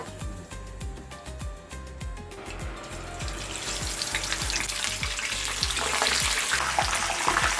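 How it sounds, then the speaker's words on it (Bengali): Boiled chicken pieces fry in oil until golden brown for Indonesian spicy chicken, a steady close sizzle that swells louder over the clip, with rhythmic low knocks of a utensil repeating underneath. "আমরা চিকেনগুলোকে গোল্ডেন ব্রাউন হওয়া পর্যন্ত ফ্রাই করবো"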